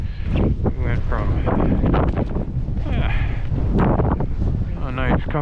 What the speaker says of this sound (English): a nice, comfortable breeze to 15 mile an hour winds